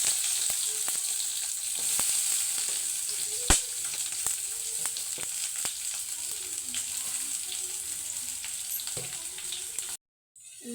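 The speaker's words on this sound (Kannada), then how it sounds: "ಚೆನ್ನಾಗಿ ಫ್ರೈ ಮಾಡ್ಕೋಬೇಕು ಫ್ರೆಂಡ್ಸ್." Onions frying steadily in oil or ghee for a hotel-style paneer curry, with a continuous close sizzle and occasional sharp clicks of stirring, ending in sudden near-silence.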